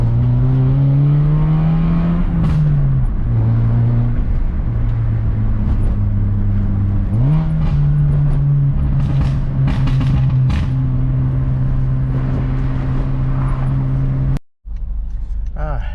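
A modified Honda Fit drives along city streets, its engine holding a steady close hum that dips and rises through shifts, with a brief cutout near the end.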